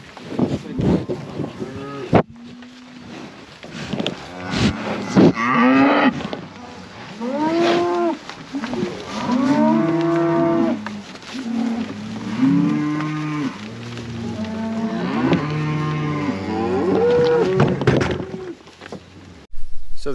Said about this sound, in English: So the cows are now in their new pasture for the day.